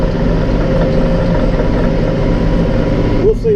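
A Massey Ferguson 3-cylinder tractor engine drones steadily while running a hay tedder, a loud, close, low-pitched rumble that holds even throughout.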